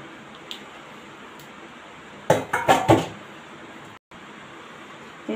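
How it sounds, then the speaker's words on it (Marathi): Boiled noodles for Chinese bhel tipped into a colander, a brief cluster of clattering, splashing knocks in the middle against a quiet kitchen background, with no voice. "आपण हे नूडल्स सर्व या चाळणीमध्ये चाळून घेऊया।"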